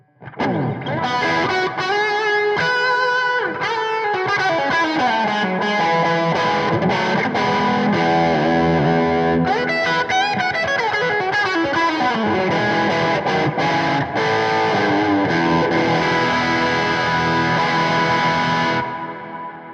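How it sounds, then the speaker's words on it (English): Distorted electric guitar through an amp drenched in big, washy reverb, chords and notes ringing out and trailing into a long echoing tail. "I'm going to put the big reverb on now and let's have a listen to that."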